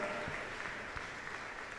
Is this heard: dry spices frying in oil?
no